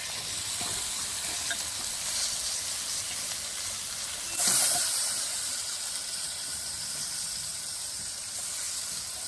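Chicken pieces hit a pan of fried spice masala and sizzle with a loud, steady hiss. There is a brief burst of steam partway through and no talking.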